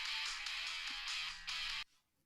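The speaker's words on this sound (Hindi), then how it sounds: "ये किसका फोन आ गया?" A phone rings in an office during a meeting, a loud, steady electronic ringtone pulsing in bursts for under two seconds before cutting off abruptly.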